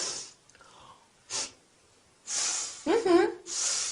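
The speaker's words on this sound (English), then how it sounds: "How do I show disapproval? Easy. You sniff." Sharp nasal sniffs showing disapproval, several short breathy bursts separated by quiet gaps, close and clear, with a brief voiced sound near the end.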